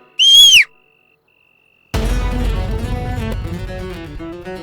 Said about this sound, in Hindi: मैं सीटी बजा दूंगी